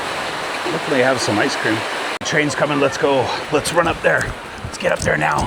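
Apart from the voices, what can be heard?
heavy rain pouring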